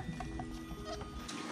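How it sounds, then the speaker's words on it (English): Goat bleating in a farm setting, a few short nasal calls scattered across a steady background of livestock and barn noise, with no talking. "No, I'm not calling the goat Mustard Pants"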